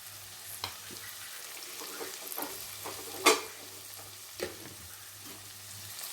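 Prawn curry with chili powder stirred in a pan, a faint low sizzle with a few scattered scrapes and taps of the spoon, one sharper clack in the middle, quiet and close with a steady hum beneath.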